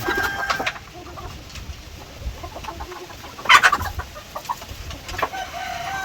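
A young rooster in a tarp-covered breeding pen, kept with hens, gives short clucks and a brief burst of crowing in the middle, with scattered bird calls around it and no talking.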